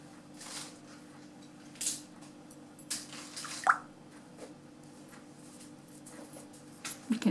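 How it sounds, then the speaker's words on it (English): A paintbrush is dipped into water while painting, giving a few faint drips and small squishy plops spread over several seconds, with quiet room noise between them and no voices. "Can hear the noise of the water as I'm dipping it."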